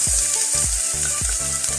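Chopped onion sizzling steadily in hot oil for a meatball curry, a loud, continuous close-up frying hiss with rhythmic stirring knocks and scrapes throughout.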